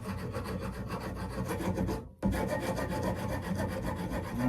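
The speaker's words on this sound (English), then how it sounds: "I will use the sandpaper." Sandpaper rubs back and forth over a knife blade in a forge workshop. The rasping is steady and close, with one brief pause midway before it resumes.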